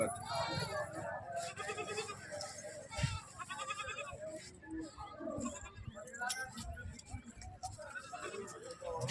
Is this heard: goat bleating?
yes